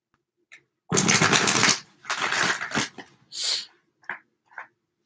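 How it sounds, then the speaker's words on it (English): Tarot cards being shuffled by hand, a burst of riffling and flicking close up followed by shorter shuffles and a few soft card taps. "One more shuffle."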